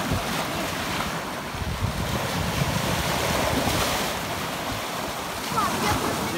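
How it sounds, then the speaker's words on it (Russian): Atlantic surf at low tide on Praia do Castelo beach in the Algarve, a continuous broad roar of waves breaking, mixed with gusty wind buffeting the microphone. "Вот так проходит отлив."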